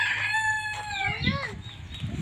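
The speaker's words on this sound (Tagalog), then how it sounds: "Ayan ang manok na panabog natin." Caged fighting roosters crow loudly and close by, with one long drawn-out call followed by rising clucks and a second crow.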